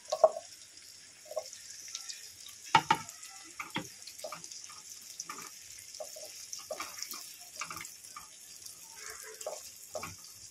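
Onion, chili and cashews frying in ghee, a faint crackle and hiss broken by scattered taps and clinks of utensils, close and quiet.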